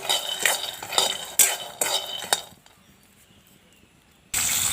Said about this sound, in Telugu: పిక్కలు వేపుకుంటున్నాను ఫస్ట్ అయితే పిక్కలు పిక్కలైతే వేపేసుకోవచ్చు